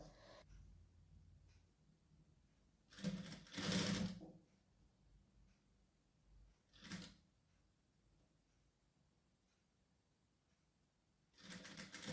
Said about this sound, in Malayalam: അടിഭാഗം ഒന്ന് ചെറുതായിട്ടൊന്ന് മടക്കി അടിച്ചെടുക്കണം